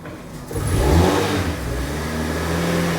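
A Ford Ka engine runs close by and revs up strongly after a brief quieter start, then holds a steady, loud mid-pitched drone with no talk over it.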